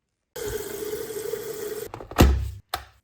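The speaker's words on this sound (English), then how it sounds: "I actually do boil the kettle for this. So I'm going to get myself some hot water." Hot water from a boiled kettle pours steadily into a container with a close, gurgling stream, then stops, followed by a few thunks and a short splash.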